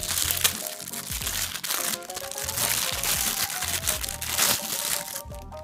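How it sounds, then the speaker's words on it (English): Packaging around the desk-clamp part of a new microphone arm is unwrapped, with close, loud crinkling, crackling and tearing of plastic that runs in continuous bursts. "So, I guess I'm gonna unwrap this part."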